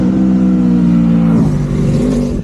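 A trail bike, either a 2025 KTM 390 Enduro R or a 2001 Yamaha TW200, rides past with a loud, steady engine drone that shifts in pitch as it goes by.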